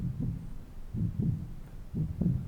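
A Nord Lead A1 synthesizer plays a heartbeat-like patch: soft, low, muffled double thumps repeating at a steady pulse, with no voice over them.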